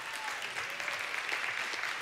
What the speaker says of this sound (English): A big round of applause for Sumayya Vally.